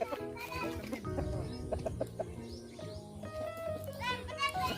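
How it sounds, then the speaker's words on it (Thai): A fighting rooster kept in a coop at a rice field clucks repeatedly at close range, mixed with the chatter and voices of children and adults talking nearby. "มันเป็นไก่ตี"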